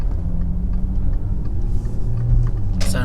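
An Audi Q7 TDI with a stage II tune driving through a neighborhood in sport mode, its diesel engine a loud, close, continuous rumble with faint ticking and a brief hissy burst near the end.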